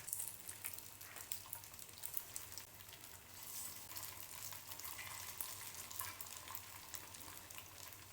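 Faint, steady sizzle of sabudana appe balls cooking in little oil in an appe pan, a soft continuous hiss with no voices.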